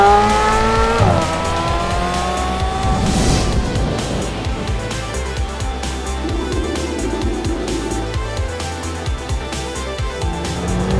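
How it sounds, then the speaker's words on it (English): A McLaren 720S sports car engine revs hard and accelerates on tarmac, with loud rising and falling gear-change sweeps, a brief tire squeal and a sustained roaring drone throughout. "have to really wring this motor out to get every last horsepower through the rear tires and down onto the tarmac"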